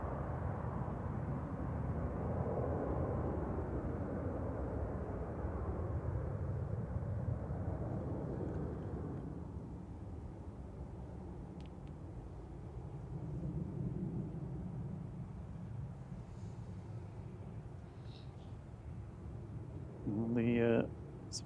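A Ryanair jet departing Manchester Airport for Bratislava, a broad low engine roar that is loud at first and then fades into a steady distant rumble, with wind noise throughout.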